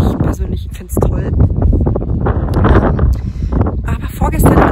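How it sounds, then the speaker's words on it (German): Wind gusts and roars steadily across a house construction site, buffeting the microphone with loud, rough noise that never lets up. "Aber hier geht immer Wind, was ich persönlich liebe."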